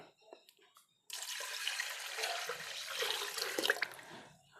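After a few soft clinks, a steady rush of 1.5 litres of water pours into a pot for several seconds, splashing and gurgling close by, then tapers off.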